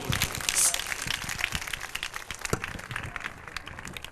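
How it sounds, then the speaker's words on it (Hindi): Applause from the audience at a Christian convention in Frooqabad, a dense spatter of clapping that swells early and then keeps going, with some voices mixed in. "आपकी भरपूर तालियों में मैं दावत देता हूं जनाब पादरी साबर गुल को"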